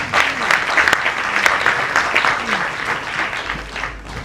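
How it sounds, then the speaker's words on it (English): Audience at a labour ministry event in Sierra Leone gives sustained applause, dense steady clapping heard clearly throughout with a faint voice underneath. "Let's give her a round of applause."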